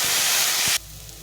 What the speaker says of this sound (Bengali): একটু জল দিয়ে দেবো, তার জন্য সামান্য একটু জল দিয়ে